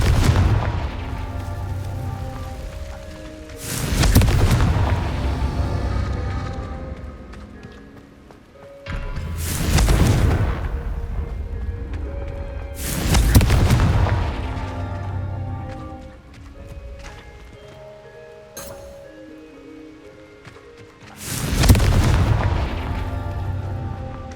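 Confringo fire spell explosions in the video game Hogwarts Legacy, loud booming blasts repeating every few seconds over a rumbling game soundscape.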